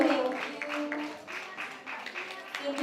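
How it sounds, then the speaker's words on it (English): A workshop audience gives steady applause, a dense close patter of many hands clapping continuously with faint voices underneath. "Please give another round of applause"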